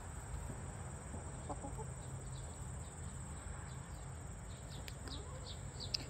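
Backyard free-range chickens clucking faintly in scattered short calls over a steady chorus of crickets and low background hum.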